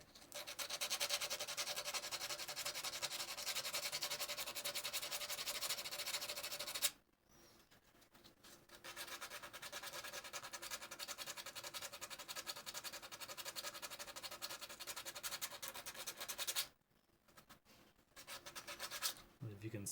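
Sanding a 3D printed part finished with a super glue and powder mix makes a brisk, continuous abrasive rasp, close and steady, stopping twice for short pauses before starting again.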